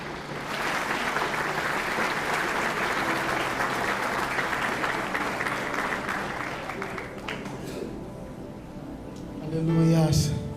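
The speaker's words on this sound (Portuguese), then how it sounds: "Pode aplaudir o Senhor Jesus" A church congregation applauds steadily for several seconds during a worship service, the clapping thinning out toward the end as a voice and other sounds rise.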